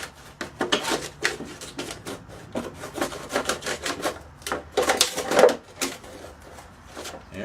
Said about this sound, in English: And now I'm going to cut around this plant, this pot.